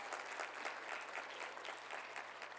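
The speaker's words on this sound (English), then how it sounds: "Give them a big round of applause." An audience at a conference keynote gives steady, fairly faint applause that fills the whole stretch without breaks.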